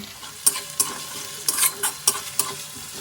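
Chopped garlic and ginger sizzling in a pan for suji upma, with a soft frying hiss punctuated by sharp, irregular spatula scrapes and taps as the pieces are stirred, close and without voices.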